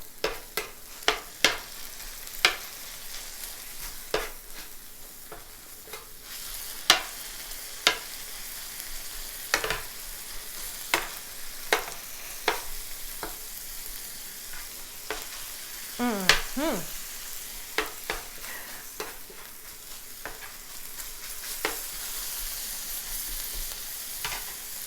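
Bread for a Philly cheesesteak fries in hot oil, a steady background sizzle punctuated by frequent sharp clicks and scrapes of a utensil over nearly half a minute, without speech.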